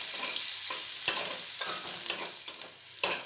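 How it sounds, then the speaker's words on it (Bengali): Chopped onion frying in hot oil and stirred in a pan for a mushroom and potato curry: a steady soft sizzle with several sharp spoon scrapes and clinks at irregular intervals, close and alone. "দিয়ে পেঁয়াজটাও একটু নাড়াচাড়া করে নেব।"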